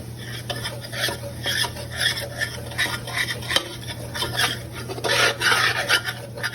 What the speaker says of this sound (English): stirring the pot.